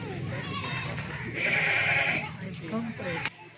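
Large goats, including pregnant does and nannies with kids, bleat at a livestock market amid steady talk, with one louder drawn-out bleat standing out near the middle.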